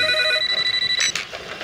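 A telephone bell rings in a steady, bright electronic trill, loud and close, then cuts off and a faint rustle follows.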